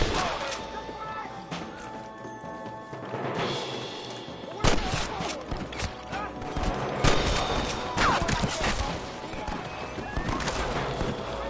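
Heavy gunfire in Red Dead Redemption, a dense battle of rapid shots and loud cracks that builds from scattered fire into sustained volleys, with voices shouting underneath.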